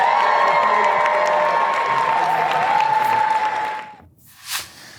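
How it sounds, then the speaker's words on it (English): Crowd applause with cheering and whoops fills most of the clip at steady loudness, then cuts off abruptly to near silence, followed by a brief burst near the end. "Give them all a big round of applause."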